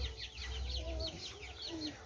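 Rhode Island Red chickens on a farm clucking: a quick run of repeated soft clucks and chirps, close by over a low rumbling background.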